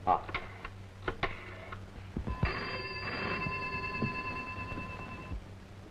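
A telephone rings in a Tamil film scene, a steady electronic ringing tone entering partway through over background music and scattered dialogue, fairly loud and close.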